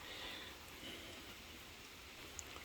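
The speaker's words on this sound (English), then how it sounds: "Again, it's kind of raining." Rain falls outside as a faint, steady hiss of drops, continuous and even throughout, with no other sounds over it.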